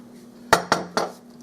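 A bottle of lemon juice is shaken in a kitchen, three quick sharp sloshing clunks in close succession, near and fairly loud over a faint steady hum.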